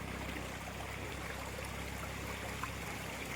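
Rainwater runs steadily along a field embankment in a rain-soaked Konkan field, a soft, continuous trickling wash heard close and alone with no voices.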